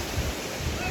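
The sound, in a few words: Kothapalli waterfall flowing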